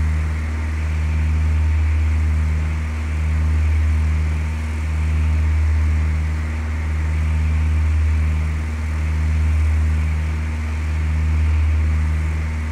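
A propeller airplane engine in Flight Simulator 2004 drones steadily and loudly throughout, with a slow, regular swell in its hum; no one speaks.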